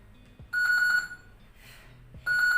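An electronic exercise timer sounds a bright, warbling beep twice, each tone lasting about half a second, with quiet gaps between them.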